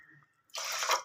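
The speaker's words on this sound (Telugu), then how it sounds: "ఆ కప్పుతో వాటర్ని కూడా ఇందులో యాడ్ చేస్తున్నాను" Water poured from a cup into a pot of rice for sweet paramannam, a close, steady splashing pour that starts abruptly after a quiet moment and runs to the end.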